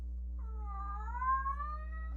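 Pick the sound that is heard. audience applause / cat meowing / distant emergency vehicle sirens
cat meowing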